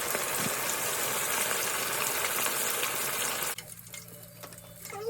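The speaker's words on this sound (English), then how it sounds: "I got all my fish seasoned. You feel me? It's ready to be fried." Seasoned fish sizzles and crackles in hot oil with a loud, dense frying hiss that cuts out abruptly near the end, leaving a quieter background.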